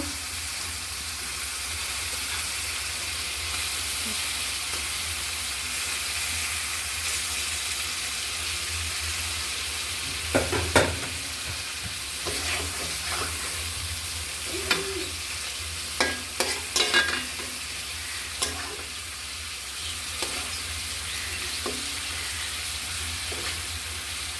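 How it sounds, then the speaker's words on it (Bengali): Fish sizzles steadily in a pan with spices while a spatula stirs and turns it, several sharp scrapes and clinks standing out over the continuous frying hiss, close and without talk. "এখন মাছটা সুন্দর করে কষিয়ে নেব।"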